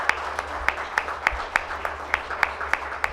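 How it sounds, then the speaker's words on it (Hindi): At an oral health summit award ceremony, the audience claps in an even rhythm, sharp distinct claps about three per second standing out over a softer bed of crowd applause, fairly close and steady. "तो मैं मंच पर बुलाना चाहूँगा ज़ोरदार तालियों की गड़गड़ाहट के साथ मोहम्मद स्वाले टी को"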